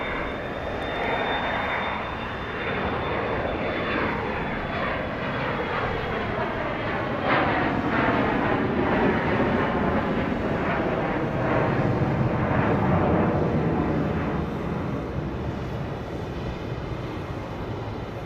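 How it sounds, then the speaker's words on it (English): Southwest airliners at Dallas Love Field at night, a loud steady jet engine roar that swells with a sweeping rising whine as a plane powers up for takeoff, continuous and fairly close, with no talking. "So we've got two Southwest planes ready to take off."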